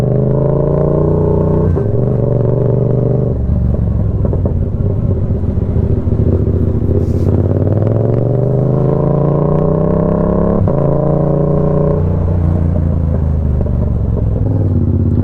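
A Yamaha MT-07 motorcycle rides along the road, its engine droning loud and close with rising and falling pitch through gear changes, and wind rumble underneath.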